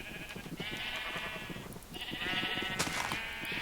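Sheep on a Minecraft Agrarian Skies farm give two long, wavering bleats with a short gap between them and a sharper bleat near the end, heard close over soft background noise.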